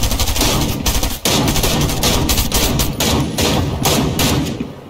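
Rapid automatic gunfire in the video game Fortnite, loud and sustained with dense bursts of shots and a brief pause partway through, alone without talk.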